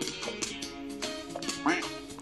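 Duck quacks from the video game Duck Warfare, several short nasal calls scattered over layered game sounds and music, with a rising honk near the end.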